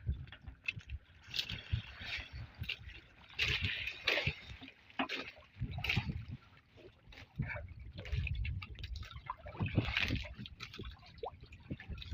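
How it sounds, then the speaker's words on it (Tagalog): Small, gentle sea waves slosh and lap against a boat during a fishing trip, a steady watery churning with soft gurgles that rises and falls in irregular surges across the whole stretch. "Alon-alon mga idol. Pero di ganong malakas."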